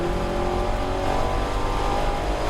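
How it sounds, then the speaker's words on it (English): A 2019 Dodge Challenger SRT Hellcat Redeye accelerates hard down a racetrack straight, its supercharged engine a loud, sustained, rising roar heard from inside the car with no talk over it. "This car really rips down the straightaway."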